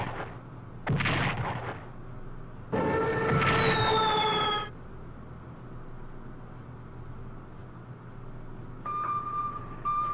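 Naval bombing in the Strategic Command WWII strategy game comes as several loud, close game explosion bursts of rumbling noise, one carrying a falling whistle-like tone, and they are separated by quieter gaps.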